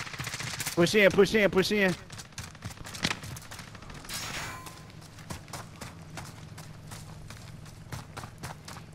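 Video game gunfire crackles in rapid bursts of shots, loud at first and then sharp and sporadic, while a player's voice briefly speaks over it.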